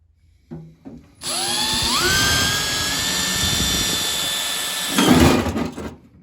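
A power drill set to hammer mode runs on a part of a 1951 Ford F1 truck, spinning up to a loud steady whine with rattling impacts for several seconds before a heavier burst near the end.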